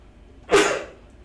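A single sharp sneeze bursts out nearby during a public school board budget meeting, a quick explosive puff of breath that fades rapidly into quiet.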